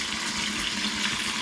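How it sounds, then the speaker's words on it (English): Hot tap water runs in a steady, full-bodied rush from a kitchen faucet, pouring continuously as jars are filled, close and unbroken with no talking. "We're going to fill these jars with the hottest possible water that we can get"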